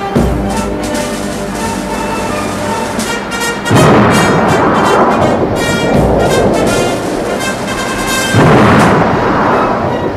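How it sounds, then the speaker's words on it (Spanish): Heavy naval gunfire from the ship Canarias sounds as loud, deep booms and long rumbling roars that rise sharply twice and then roll on, with no voices. "Numerosos disparos del Canarias alcanzan al Guipúzcoa."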